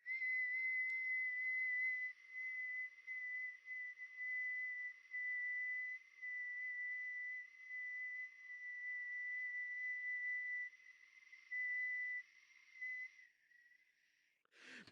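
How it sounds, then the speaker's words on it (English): A single person holds one steady, high whistled note in one breath for about fourteen seconds, clear and close. The tone wavers slightly in loudness and then cuts off with a brief breath at the end. "That you can whistle for 30 seconds in one breath."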